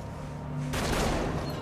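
Burst of gunfire in the Metal Gear Solid V prologue video game, a sudden loud rattle of shots over a rumbling game soundscape, close and dense after a brief low hum.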